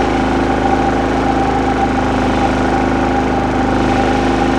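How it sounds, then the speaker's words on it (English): Powerhorse 3500 watt inverter generator running in eco mode, a steady droning engine hum with a constant pitch and no speech, held at an even loud level throughout. "So the generator needed to rev itself up in order to keep up with the device that's on there."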